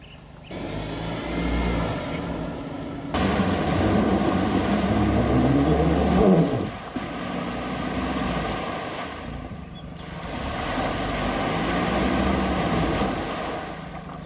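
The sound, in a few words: Mahindra Thar engine straining, stuck in river mud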